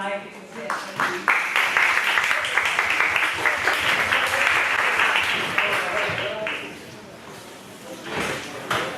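An audience at an international conference on Poland in the European framework breaks into moderately loud, rippling applause. It builds, holds for several seconds, then thins out, with voices audible around it.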